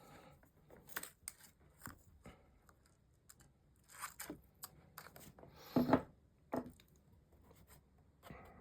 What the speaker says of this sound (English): So I'm going to cut this